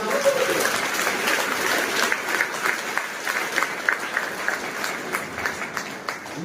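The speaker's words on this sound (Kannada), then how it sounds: "ಒಂದ್ಸಲ ಜೋರ ಚಪ್ಪಾಳೆ ನೋಡಿಬೋದಾ?" A crowd claps loudly at a motivational speech programme, a thick, sustained roar of applause with individual claps standing out, continuous and near throughout.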